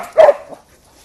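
A single loud, close dog bark sounds at once, followed by a fainter trailing yelp and then quiet.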